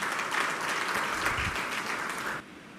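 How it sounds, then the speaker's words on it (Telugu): An audience at a Christian prayer meeting applauds in praise, a steady, even wash of many hands clapping for a couple of seconds before cutting off abruptly. "వీటన్నిటి కొరకు ఒకసారి చప్పట్లు కొట్టి దేవుని స్తుతిద్దాం"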